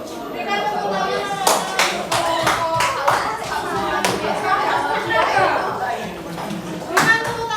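Classroom students clapping at the end of a lesson, scattered claps and rhythmic bursts of hands mixed with children's voices and chatter, fairly near and lively.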